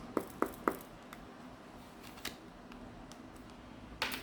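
Tarot cards being shuffled by hand: a quick run of three crisp riffling snaps, a quieter pause with a faint flick, then another brief burst of card noise, all soft and close.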